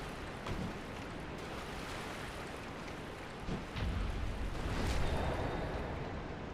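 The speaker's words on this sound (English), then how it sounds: "I didn't know they had water effects for lightning in this game." Lightning crackling and spreading across water in Dark Souls Remastered, a continuous wash of rushing, rain-like noise that swells into a louder surge near the end, with no voices.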